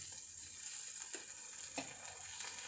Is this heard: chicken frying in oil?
yes